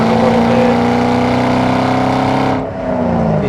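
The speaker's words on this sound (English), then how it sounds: "You hear the exhaust, but it's not too terribly loud." A 2007 Ford Mustang Shelby GT500's exhaust holds a loud, steady, throaty drone from inside the moving car, then briefly dips and eases near the end.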